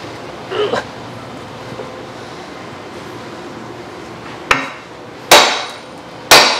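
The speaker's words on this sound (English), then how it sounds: "Big hammer." A big hammer strikes hard three times near the end while repairing an old ball mill, loud ringing blows after a quieter knock and background hum.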